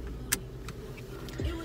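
Car cabin while driving, a steady low engine and road rumble filling the interior, with a few brief ticks and clicks near the start and a short louder thump toward the end, no voices.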